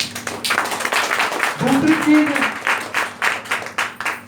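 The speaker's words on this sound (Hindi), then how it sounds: "इसके लिए एक बार जोरदार तालियां।" An indoor audience bursts into loud applause and clapping at a health products seminar, the clapping continuing steadily under a man's amplified speech.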